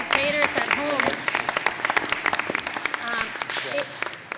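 A roundtable audience applauds, with lively clapping from a room of people that rises and falls. A voice talks over the start of it.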